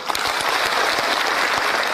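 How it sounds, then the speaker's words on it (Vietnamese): An audience at a health product gathering gives a thankful round of applause, a brief, dense and steady burst of clapping with no talk over it. "Tôi cũng xin một tràng pháo tay để cảm ơn anh ạ."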